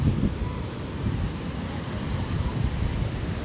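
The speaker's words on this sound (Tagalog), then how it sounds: "Pero malakas ang hangin." Strong wind at the seashore roars steadily and buffets the microphone, with a low, rumbling surf-like wash beneath it and no voices.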